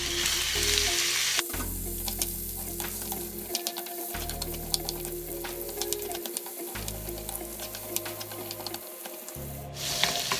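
Butternut squash and pumpkin chunks stir-frying in a little hot oil, a steady close sizzle with repeated scraping stirs of a spatula, pausing briefly between strokes, no voices.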